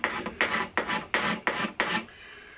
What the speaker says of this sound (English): It needs some careful, detailed scraping around these undulations.